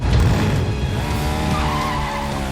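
Leon's motorcycle in a Resident Evil animated film, ridden up onto a rooftop: a loud, continuous engine roar with rising revs and a tire skid, steady and close throughout.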